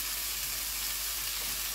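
Summer vegetables frying in a pan for a mixed vegetable curry, a steady close hiss of sizzling oil with no talk over it.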